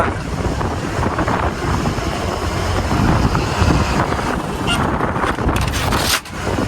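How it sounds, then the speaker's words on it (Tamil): Strong seashore wind at Bhavnagar, Gujarat, roars steadily against the microphone, a dense broadband rush with low rumbling gusts throughout, fading briefly near the end. "காற்று அடிக்குதுங்க காற்று அடிக்குதுங்க இந்த கடலோரங்களாங்க காற்று அடிக்குது"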